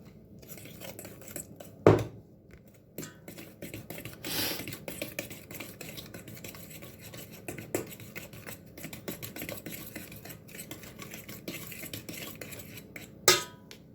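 Utensil scraping and clinking against a bowl while mixing cookie dough with soft butter and soda, with irregular soft strokes and a couple of louder sharp knocks.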